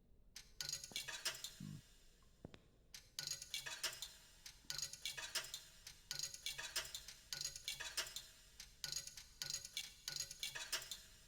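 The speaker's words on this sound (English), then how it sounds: "Sounds like you're putting quarters in a vending machine." Repeated metallic clinking in the horror game Gloomwood, like coins dropping into a vending machine, a steady series of sharp close clicks and chinks at an even rhythm after a brief pause, no talking.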